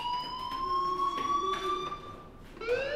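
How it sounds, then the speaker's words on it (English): Fire alarm ringing in the video game Life is Strange: a continuous wavering electronic wail with steady high tones, loud and sustained under faint background noise. "do you hear that fire alarm? That means you should be outside."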